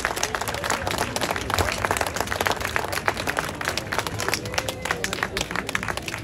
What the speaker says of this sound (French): Je veux vous demander une ovation pour Lulu Limpi, notre Lulu.